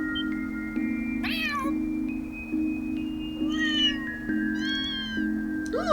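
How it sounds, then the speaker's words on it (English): Several cats meow in Trails Through Daybreak 2, with clear, close mews spaced every second or so over a steady humming musical drone. "the cats are all here at once."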